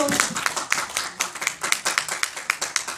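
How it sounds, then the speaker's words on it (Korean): Audience clapping at a Korean community center art lecture in LA, a sparse, uneven patter of claps from a small crowd at steady moderate volume, with no voices over it. "박수 좀 부탁합니다"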